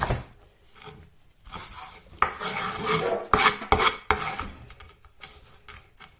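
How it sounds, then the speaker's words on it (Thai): A knife rasps and scrapes steadily on a board, finely slicing ingredients for a wild garlic sausage, with bursts of louder strokes close up and no talk. "เราก็จะมาหั่นฝอย"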